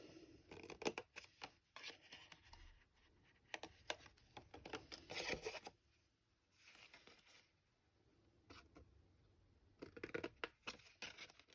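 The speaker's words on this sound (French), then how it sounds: "Et on coupe en biseau." Scissors snip a coffee-cup craft piece along a bevelled edge, a quiet close series of dry crisp cuts coming in bursts with short pauses, heard alone.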